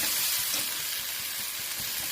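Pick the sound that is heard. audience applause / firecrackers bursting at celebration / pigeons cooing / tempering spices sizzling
tempering spices sizzling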